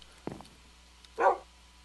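A tamed wolf dog in the game Minecraft gives two short barks, a sharp yip followed moments later by a louder, fuller bark, alone and fairly close.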